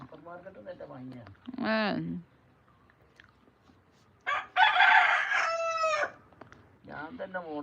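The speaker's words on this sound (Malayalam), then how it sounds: "ആ കോഴി ഇങ്ങനെ വെറുതെ കൂകും" A rooster crows nearby twice, a short call followed by a longer, louder cock-a-doodle-doo, with a brief trailing cluck and some quiet background between.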